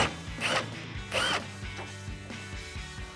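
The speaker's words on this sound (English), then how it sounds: "grab your 10mm socket and remove the other bolts up top on the headlight" Ratchet fitted with a 10mm socket backing out the upper headlight bolts on a 2007-2013 Silverado 1500, giving a few short, close bursts of rapid clicking with brief pauses between them.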